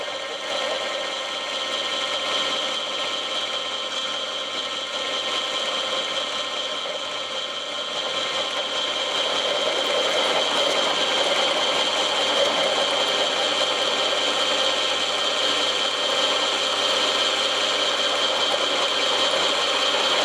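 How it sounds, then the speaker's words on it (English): A step drill enlarging a 12mm hole in a plate to 19mm, a continuous close whirring and grinding drone that holds steady for about twenty seconds and grows slightly louder midway. "I want to open that up to 19mm, which is the last step on this step drill"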